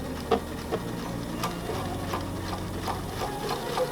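Sewing machine stitching a seam on an Attic Window quilt block, a steady low mechanical hum with faint rhythmic ticking, quiet and close.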